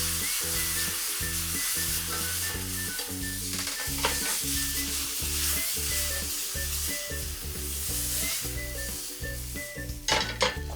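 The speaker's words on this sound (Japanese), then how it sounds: "バター絡んだらお醤油上からかけて" Soy sauce poured over butter-coated corn in a frying pan, a loud continuous sizzle with stirring scrapes and occasional metal clinks near the end, under steady background music.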